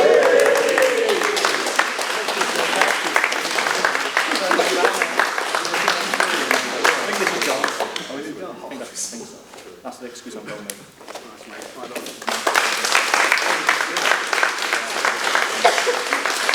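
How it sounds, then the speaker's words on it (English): Martial arts class members applaud a student receiving his stripe, brisk clapping from a group that dips midway as someone speaks, then swells again. "give him a round of applause."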